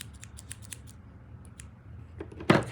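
Scissors snip stray strands of fluffy pom-pom yarn on a snow-person craft head, a faint run of small cuts followed by one louder, sharper snip near the end.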